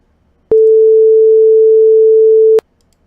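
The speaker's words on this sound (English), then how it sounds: "It's obviously the sine wave we're all familiar with." Pure sine wave test tone at 0 dBFS peak, a single steady mid-pitched note lasting about two seconds, loud and clean with abrupt start and stop and no other sound.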